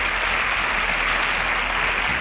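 A crowd at a Nigerian competition show applauds a contestant who has advanced a round, with dense, steady clapping that fills the whole moment.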